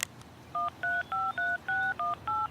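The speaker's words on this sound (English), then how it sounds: "I took out my cell phone and dialed the first number" A cell phone number dialed in the Everlasting Summer video game: seven crisp touch-tone beeps in quick, even succession, clear and alone over a quiet background.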